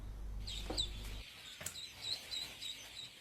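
Many small newly hatched ducklings peep in high, repeated chirps, fairly faint and steady, with a low hum fading out early on.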